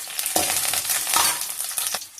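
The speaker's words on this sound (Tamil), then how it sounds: "மிளகா நல்லா வறுபட்டுச்சு" Dried red chillies fry with garlic and ginger in hot oil, giving a bright crackling sizzle close by, with a few brisk stirring scrapes and the frying fading slightly toward the end.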